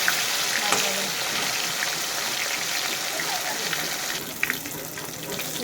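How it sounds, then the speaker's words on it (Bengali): Fish frying in a pan for a fish curry, a continuous loud close sizzle and spitting hiss with a few soft clinks, running without pause. "মাছটা ভাজা হচ্ছে"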